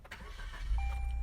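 A Suzuki Fronx GL, started with a key while the brake and accelerator are pressed, turns over and catches, settling into a smooth, low, close-up engine hum that swells near the end.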